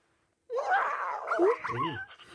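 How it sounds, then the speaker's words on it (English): A robotic Present Pets toy puppy whimpers with a run of high, wavering whines and yips, close and fairly loud, indoors, with no talk over it. "he did seem to have a little bit of a whimper"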